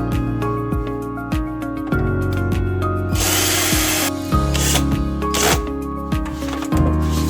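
Power drill driving fixing screws into a hotel door lock, with several whirring bursts that rise and fall in pitch as screws tighten, then rougher grinding and rattling toward the end, close and loud with no talking.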